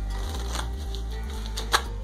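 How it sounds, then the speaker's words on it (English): A deck of playing cards is shuffled close by in a quick rapid flutter of riffling clicks that ends in a sharp snap, with no talking. "the spectators would normally give the cards a couple of shuffles and cuts."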